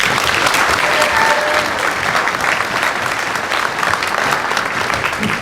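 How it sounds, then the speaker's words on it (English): A crowd in a school gym at a Distinguished Young Women scholarship program breaks into sustained, loud applause, many hands clapping in a thick, even roar that holds steady before easing slightly at the end. "Please give all these volunteers a round of applause."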